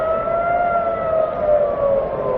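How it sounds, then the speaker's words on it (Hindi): An air-raid siren wails steadily in the distance after a large explosion from an attack, its tone slowly sliding in pitch, with no voices over it. "सायरन आप सुनिए यहाँ पे।"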